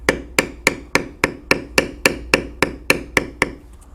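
A mallet strikes a leather beveler tool about a dozen times at a steady, even rhythm while tooling around the tips of a carved bear head in leather, each tap sharp and close.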